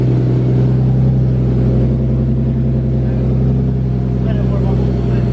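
Nissan Skyline R34 with its RB engine idling, a loud, steady low rumble with a throbbing pulse, heard up close in a garage while its fuel map is being tuned.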